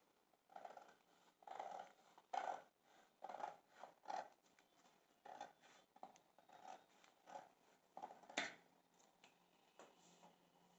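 Scissors cut fabric along a skirt pattern line in a quiet series of crisp, close snips, about two each second, with soft rustling between cuts.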